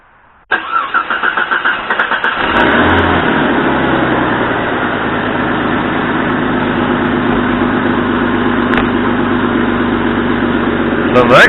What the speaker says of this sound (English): the first thing we're going to do is we're going to start the car